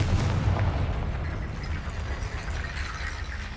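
The Confringo blasting spell from Hogwarts Legacy bursts out as a heavy, rumbling boom that rolls on as a dense roar for a few seconds, loud and close with no talk.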